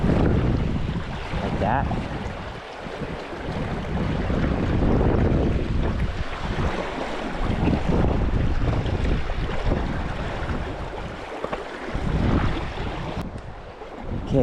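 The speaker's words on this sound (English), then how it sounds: "The wind is making it nearly impossible at the moment." Strong, steady wind gusting across a Pennsylvania creek while fly fishing, a loud continuous rumbling roar of microphone buffeting with shifting surges, and a few brief spoken words near the start.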